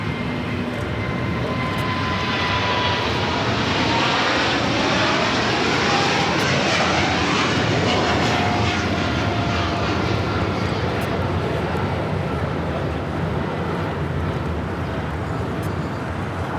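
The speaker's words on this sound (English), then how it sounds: "This is Nippon Cargo Airlines 101 taking off to Tokyo Narita on a 747-8 freighter" Nippon Cargo Airlines Boeing 747-8 freighter taking off from LAX, a loud, continuous jet engine roar with sweeping tonal whines as it passes, steady for the whole stretch.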